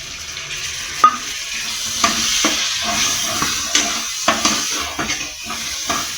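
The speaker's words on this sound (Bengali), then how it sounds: "একটুখানি ভালো করে কষিয়ে নিচ্ছি।" Onion and ginger paste with cumin and turmeric powder frying in a pan for a Bengali bottle gourd and prawn curry, a steady sizzle broken by repeated stirring scrapes, close and continuous with no talking.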